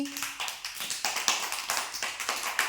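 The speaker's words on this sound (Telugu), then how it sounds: "క్లాప్స్ కొట్టండి విశ్వాకి" Children in an anganwadi preschool classroom clap for a classmate, a quick uneven run of many hand claps close by, with a brief voice at the very start.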